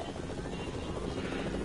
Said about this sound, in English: Watch out, another chopper, coming in.